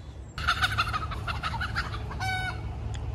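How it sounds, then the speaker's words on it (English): Hens and a rooster in a garden: a run of loud, close, rapid clucks, then a short crow near the end, with no talking. "that was the mad chicken and the crazy rooster that has been tormenting this section of the garden"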